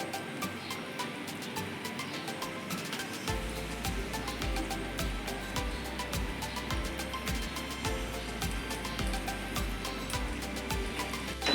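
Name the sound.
jaggery mango pickle mixture boiling in pot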